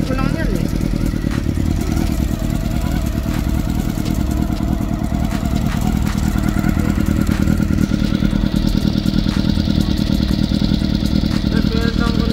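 Honda CB400 motorcycle engine idling while warming up after a spark plug change, a steady close rumble with mechanical clatter running throughout and a higher tone joining partway through; no speech.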